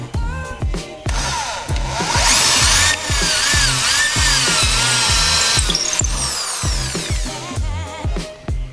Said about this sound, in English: Drilling going on.